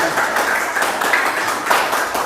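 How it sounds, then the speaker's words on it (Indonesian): Classroom applause from a group of students, a dense, continuous patter of clapping at close range lasting a couple of seconds. "beri tepuk tangan dulu."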